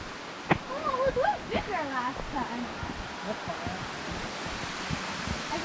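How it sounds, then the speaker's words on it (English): The Mary Vine Creek waterfall, flowing lower than usual, gives a steady, soft rushing wash of water. A voice talks briefly over it at first, then the rush continues alone. "Going back to the waterfall"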